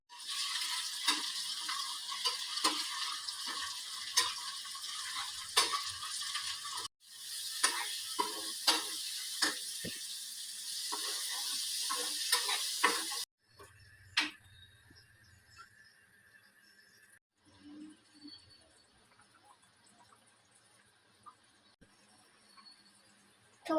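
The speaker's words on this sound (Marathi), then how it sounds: "आता इथे मी फोडणीला कांदा आणि कढीपत्ता टाकलाय." Onion and curry leaves sizzle in hot oil for tempering, a bright crackling hiss with scattered stirring clicks. After a pause the frying drops to a fainter, sparser sizzle.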